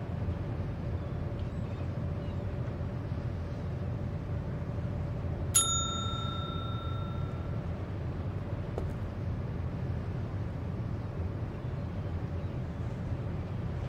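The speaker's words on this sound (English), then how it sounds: "You rang, though I'm not sure how, when I'm repairing the bell right now" A bell in Secret Files 2 rings once with a single bright, ringing strike that decays over about two seconds, set against a low steady background hum, followed later by a faint tick.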